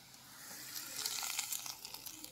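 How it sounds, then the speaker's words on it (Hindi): A hot tempering (tadka) with small pieces of garlic is poured into dal makhani, giving a faint, soft sizzle that swells partway through and crackles gently to the end. "हमारा तड़का अब तैयार हो गया है, अब हम इसको दाल मखनी में डाल देंगे।"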